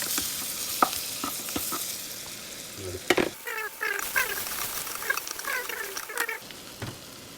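Garlic, onion and chili fry in a pan for chicken adobo, a steady close sizzle with scattered sharp clicks and stirring scrapes throughout.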